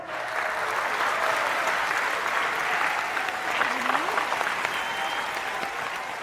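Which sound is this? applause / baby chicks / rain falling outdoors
applause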